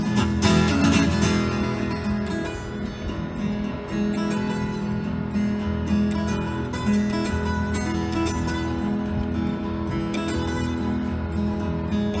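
Sustained, wailing harmonic tones imitate a train whistle blowing north of town, holding steady and fairly loud for the whole stretch with no talking.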